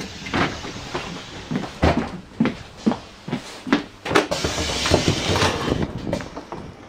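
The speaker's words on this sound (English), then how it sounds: "I pushed the door close button when the door was still opening and it didn't work properly." Train doors at Strood station slide open and shut in a string of repeated clunks and thuds, with mechanical rumble between them and steady background noise.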